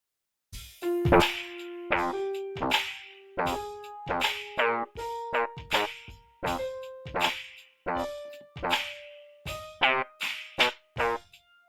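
A keyboard melody plays over an F Dorian backing track, with short, evenly spaced notes stepping through a phrase at a steady rhythm.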